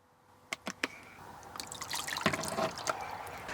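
Cool water is poured at a camp stove while packet gravy is made on a Tembo Tusk Skottle outdoors; a few close drips give way to a soft, steady trickle and splash.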